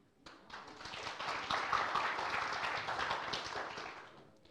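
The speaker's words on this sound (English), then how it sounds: "let's have an applause to the earlier presentation, Richard, for having a nice story there" An audience at a security talk applauds the previous presenter, with dense, rapid clapping that starts suddenly, swells, and holds steady for several seconds in a full room.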